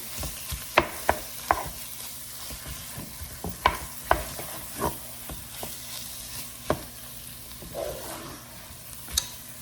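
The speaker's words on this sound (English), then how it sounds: "I'm just gonna saute that in." Vegetables sauté in a pan on a home stove with a soft continuous sizzle, broken by sharp, irregular clinks and scrapes of a utensil stirring against the pan.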